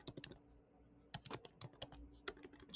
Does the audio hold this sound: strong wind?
no